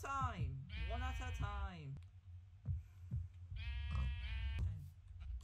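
Sheep in a Minecraft-style SMP game bleat in wavering, nasal cries, several in turn, close and loud, with a person talking briefly over them.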